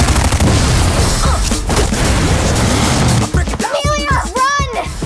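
Gunfire bursts in a chaotic film scene, loud booming shots overlapping shouted voices and a child's speech, fading into echoing calls toward the end.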